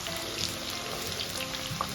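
Onion frying in a pan while cooking a white rice stew, a dense hissing sizzle with faint crackles throughout, close and steady, no talking.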